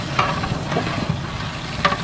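Tempering sizzles in a cooking pot while food is prepared for a Ganesh festival offering, a steady loud frying hiss with a few sharper spits and crackles throughout.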